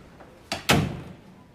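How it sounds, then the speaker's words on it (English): An office door closing, a quick two-part knock and slam, the second impact loud and near, followed by a short fading ring and a faint click at the end, with no talk over it. "Close the door."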